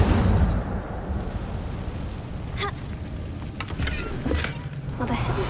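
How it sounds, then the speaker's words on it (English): An Incendio fire spell cast in Hogwarts Legacy, a loud whooshing burst with a rumbling roar that fades over a few seconds, followed by crackling pops. "Incendio!"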